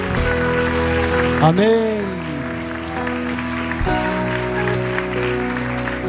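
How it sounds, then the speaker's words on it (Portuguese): A church congregation applauds during a worship service, the clapping a diffuse wash beneath a voice and sustained musical tones. "Pode aplaudir ao Senhor."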